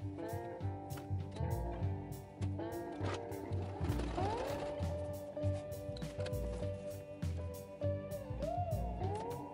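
A sewing machine stitches a leather bandolier in steady, rapid runs of mechanical whirring and clacking, close and moderately quiet, with brief pauses between bursts.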